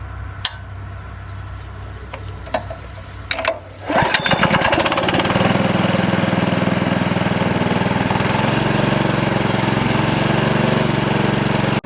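Kinetic log splitter with two 75-pound flywheels: a few sharp clicks and knocks, then its engine fires and settles into a loud, steady, close running drone for the rest of the time.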